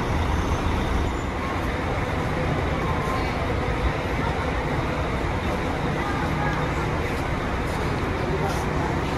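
A Sertaneja coach pulls into a platform at the Brasília bus station with a constant, loud engine rumble and roadway noise. The sound carries on without a break under the busy ambience of the station.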